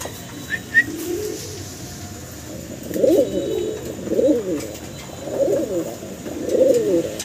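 Racing pigeons, a male and female pair, give four soft, rolling coo bouts close by, spaced a second or so apart over a quiet background.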